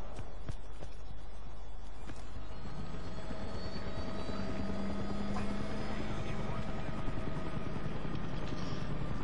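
A video-game helicopter drones in flight, a steady whirring engine hum with a faint tonal whine, sustained at even loudness for the whole stretch.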